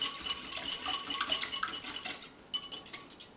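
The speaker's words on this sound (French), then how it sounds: "On va les mélanger jusqu'à ce qu'ils aient une belle consistance égale, qui commence à mousser." A utensil clinks and scrapes against a bowl while vegan waffle ingredients are mixed until foamy, giving quick light metallic taps close up, with a brief pause before it resumes.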